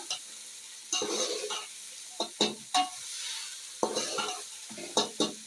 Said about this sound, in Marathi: कांदा भाजून घेतला पाहिजे